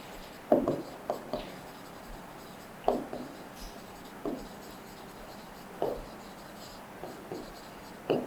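Chalk or marker strokes on a board during a class 8 maths lesson on linear equations, sounding as short scratchy bursts in irregular clusters, close and quiet, with no talking.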